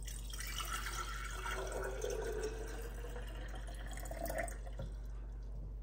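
Water trickles and pours steadily into a capped container at home, a soft continuous liquid flow over low background hum, with no talk.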